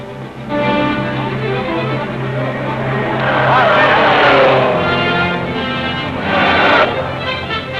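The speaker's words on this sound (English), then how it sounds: "Johnny Fitch puts his car on the pitch-dark road again" A Cunningham sports car runs on a dark road at the 1953 Le Mans race, its engine droning steadily and swelling louder as it nears, under a narrator's voice.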